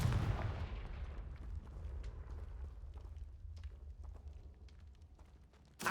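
A Confringo blasting spell in Hogwarts Legacy detonates with a loud boom at the start, then a low rumbling tail that fades over several seconds, with scattered faint crackles and no talk.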